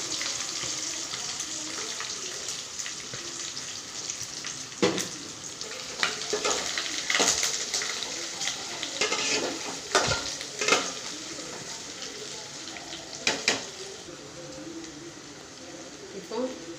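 Mustard seeds and chopped small onions sizzle and crackle in hot oil with occasional stirring scrapes and pops; a voice talks intermittently over the frying.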